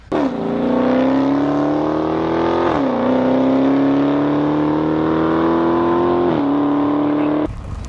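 Dodge Charger SRT Hellcat sedan with a supercharged 6.2 liter V8 pulling hard through gears, its loud rising howl broken by two brief shift dips before cutting off near the end, close and alone.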